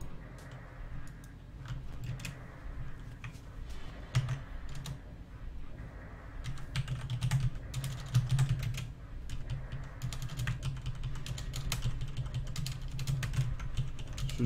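Typing on a computer keyboard, with bursts of quick, uneven key clicks that run on and off throughout, close and clear, under a steady low background hum, no voices.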